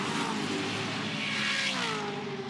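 Ford Falcon touring cars race flat out down Conrod Straight at Bathurst, a loud continuous engine roar with rising and falling tones as several cars pass close together.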